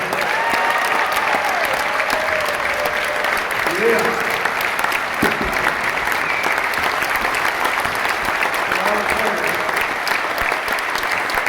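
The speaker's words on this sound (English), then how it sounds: "Let's give one more round of applause here." Steady, loud crowd applause at a high school state championship welcome-home rally, sustained for over ten seconds with a brief shout and a few voices over the clapping.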